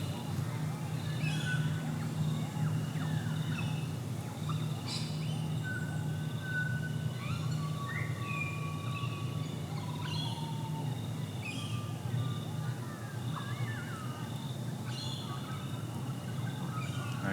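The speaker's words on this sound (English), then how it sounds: "just focus on the birds for a second?" Recorded birdsong played over speakers in a conference hall: several birds chirp and whistle in scattered short calls, moderately faint over a steady low hum of the room.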